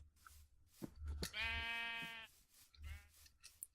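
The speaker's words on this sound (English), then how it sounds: "The black sheep." Minecraft sheep bleat in the video game, with one clear drawn-out bleat in the middle and a shorter one after it, fairly faint, among light game noises.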